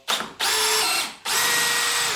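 A DeWalt Xtreme 12V brushless mini drill with a 2Ah battery whirs up loudly in two high-pitched bursts, spinning down briefly between them and then revving again at full speed, close up with no talking.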